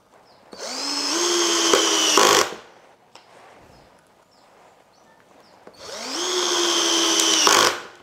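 A Keelat KCD005 20V cordless impact drill whirs up and drives a screw into wood for about two seconds, pauses, then runs again for a second long burst, with faint clatter between.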